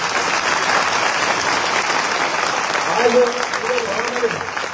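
A large crowd at a kirtan during a village fast-protest gathering claps continuously, dense sustained applause with a voice speaking faintly over it toward the end.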